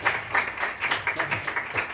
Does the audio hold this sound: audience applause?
yes